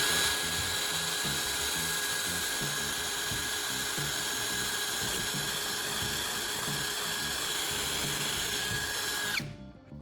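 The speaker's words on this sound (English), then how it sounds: "I'll drill 3 small holes in the can's body pointing east, west and south, to make the next step easier." A small drill bores holes into the metal body of a canned meat can, a continuous close high-pitched whine with steady grinding that stops abruptly just before the end.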